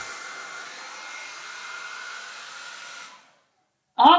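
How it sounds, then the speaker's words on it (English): A hair dryer blowing steadily to loosen the glue on a snow globe, making a close, even whoosh for about three seconds before it cuts off. A short loud burst follows after a brief silence. "Okay, the hair dryer worked."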